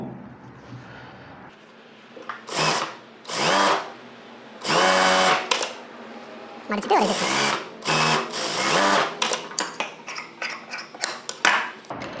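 A sewing machine stitches a strip onto a blouse in a tailoring lesson, several close, loud bursts of rapid whirring separated by pauses, with someone talking between and over the runs.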